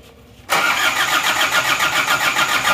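An engine fitted with new NPR piston rings and cylinder liner cranks and catches after a brief quiet moment, then settles into a loud, steady, close idle.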